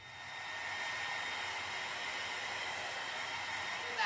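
A heat tool blows hot air steadily over layers of milk paint on a craft pumpkin, a faint, even whooshing hiss running unbroken for a few seconds before a brief bump at the end.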